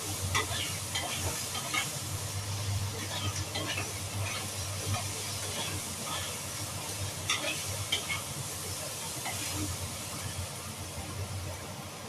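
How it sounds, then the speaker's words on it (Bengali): Dal being sautéed in a pan with tomato and onion, giving a steady close sizzle with scattered scraping stir strokes, an even texture that carries on throughout without any talking. "এখন টমেটো আর পেঁয়াজ দিয়ে আমি ডালটা একটু সাঁতলাবো।"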